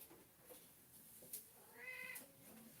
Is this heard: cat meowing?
yes